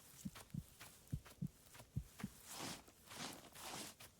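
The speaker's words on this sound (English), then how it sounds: "The heartbeat means that you're in danger." A heartbeat danger warning in the survival game Rising World pulses as soft, low thumps in a steady rhythm for about two seconds, then fades under a wash of rustling, breathy noise.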